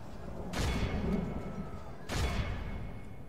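Two heavy booming volleys as units open fire in the Third Age Total War game, each a broad rumbling blast about a second and a half apart over a low ambient background.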